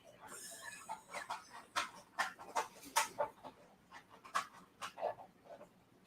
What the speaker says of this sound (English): See how excited the dogs are when he got home?